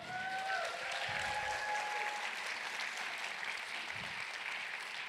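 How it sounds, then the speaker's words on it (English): An audience at the launch of the National Environmental Youth Advisory Council applauds steadily at a distance. A few faint tonal sounds drift over the start. "we give a round of applause to these great folks right here"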